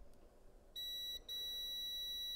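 A Kaiweets HT118A multimeter on its ohms function gives a steady high-pitched warning beep, a close, clean electronic tone held for about half a second, a tiny gap, then held again.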